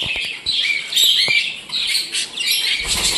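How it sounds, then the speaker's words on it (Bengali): Classic budgerigars in a bird shop chirp and squawk in a dense, continuous flurry of close, bright calls with no pause. "আমার কাছে এই যে ক্লাসিক বাজিকার পাখিগুলো দেখতে পাচ্ছ"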